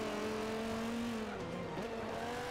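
A 2013 McLaren P1 hybrid supercar driven in Forza 5 gives a steady, loud engine drone with a brief dip in pitch partway through, alone with no talk.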